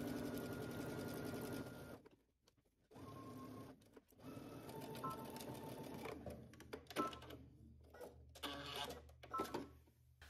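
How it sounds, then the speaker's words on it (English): A sewing machine stitches gathered fabric onto a yoke at a 5/8-inch seam allowance, whirring close by in bursts of varying length with short pauses between runs. "we can go ahead and stitch using 5/8 of an inch seam allowance"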